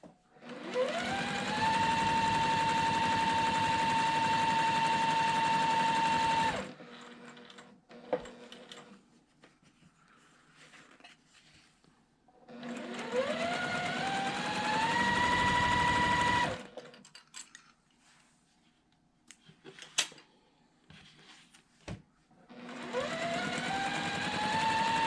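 A sewing machine runs in three long stitching bursts while a quilt block is sewn, each run steady and loud, separated by quieter stretches of handling noise and small clicks.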